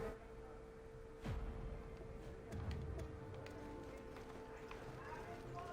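Hooves clip-clop in the video game Black Desert as a horse moves in the game world, a few soft irregular steps under a low steady ambient hum.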